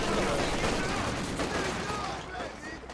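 Dense, continuous gunfire rattles through a Company of Heroes 2 4v4 battle on the Vielsalm map, with overlapping rifle shots and machine-gun bursts forming a loud, steady barrage.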